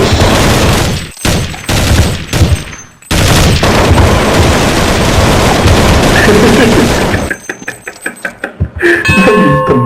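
Dense bursts of automatic gunfire and rapid shots from the Roblox-style game JailBreak fill the scene loudly, broken by brief pauses and later scattered single shots, with players talking over the action.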